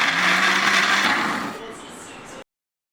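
A mixer grinder whirs loudly as it purées three chopped tomatoes for an egg and drumstick curry. The steady grind eases off partway through, then cuts out abruptly, leaving silence.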